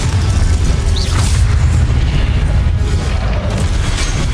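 A Confringo fire spell blast in the video game Hogwarts Legacy, a loud continuous booming rumble filling the whole moment with heavy low-end roar and no talk over it.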